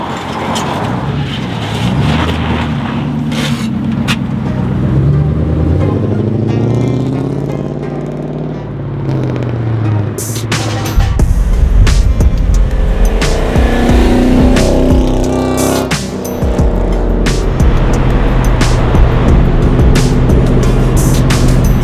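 A slammed, static-lowered Mercedes W140 drives along, engine droning and rising and falling in pitch through gear changes, with heavy road rumble and scraping thumps growing louder partway through, close and steady throughout.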